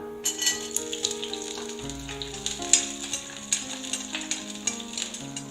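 Seven or eight garlic cloves fry in hot oil in a pan with a steady close sizzle and popping, while light stirring clicks and pans tapping come in at irregular intervals and no one speaks.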